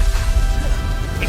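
A loud crashing blast of the Confringo fire spell striking in Hogwarts Legacy, a dense, booming impact filling the short moment with rumbling low end.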